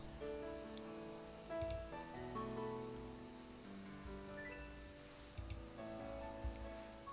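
Soft, irregular clicking ticks scattered in the background under a low steady hum, with a few sharper clicks standing out, during a Pokémon Violet session on a PS5.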